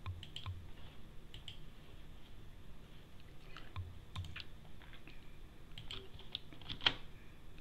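Computer keyboard keys and mouse clicks tapped at a desk while copying a password, a quiet, irregular patter of close clicks with brief pauses and one sharper tap near the end, no talking.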